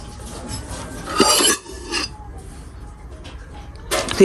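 Plates and dishes shifted on a table at a family breakfast, with a few clinks and scrapes of ceramic in two short bursts amid quiet room noise.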